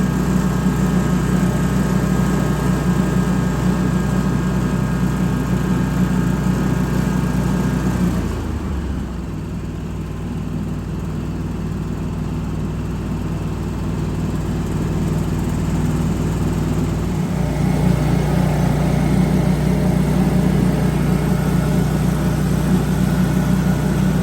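A farm tractor engine runs steadily and loudly, a low droning idle that dips briefly in the middle before returning to full strength.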